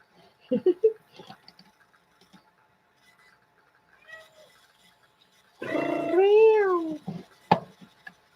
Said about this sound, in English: My cat's talking more than we are, guys.